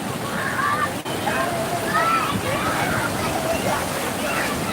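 Floodwater sloshes and churns steadily throughout, a continuous broad wash of moving water with faint voices and calls mixed in behind it.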